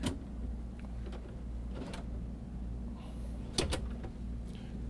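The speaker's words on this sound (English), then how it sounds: "Nice little pull-out drawers, real deep for canned goods." Deep pull-out pantry drawers for canned goods in a Dynamic Isata 28SS RV slide open and shut, a few soft clunks and rattles with a sharp knock near the end over steady low background hum.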